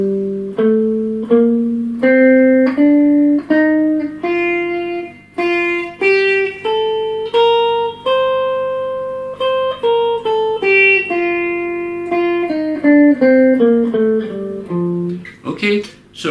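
Electric guitar climbing a Mixolydian scale up to the fifth, clean sustained single notes in a steady stepwise run, then descending back down, close and loud with no talking.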